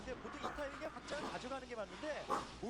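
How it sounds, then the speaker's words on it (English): A dog barks and yips indoors in short, rapid bursts, somewhat faint, mixed in under a man's speech. "Excuse the dog for a second here."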